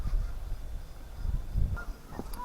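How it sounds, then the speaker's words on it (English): Geese at a lakeside campsite near sunset give a few faint, scattered honks over low outdoor rumble. "The geese are noisy."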